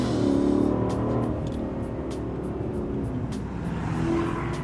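A Mercedes CLK500 shooting brake V8 with its exhaust in the loud setting and sport mode, a steady deep rumbling drone as the car drives on a UK road, continuous throughout with no talk.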